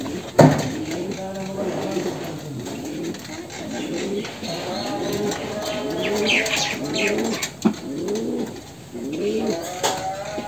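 A sick pigeon coos up close, giving a steady run of repeated soft, throaty coos with a few faint clicks and handling knocks between them.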